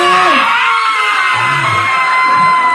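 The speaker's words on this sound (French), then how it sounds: "je vais vous entendre crier pour la folle descente" A hypnotized audience at a hypnosis evening at Le Dandy screams through an imagined roller coaster plunge. A dense, loud wall of crowd yells and shrieks is sustained throughout.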